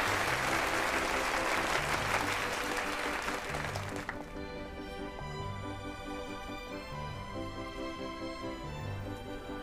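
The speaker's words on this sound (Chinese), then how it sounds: "掌声有请。" Loud audience applause fills an awards ceremony hall as a presenter is invited on stage for an annual most-influential-program award; the clapping dominates for about four seconds, then fades under music.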